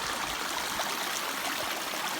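Small waterfalls in the Canadian wilderness rush steadily and close by, a continuous broadband hiss of falling water with no speech over it.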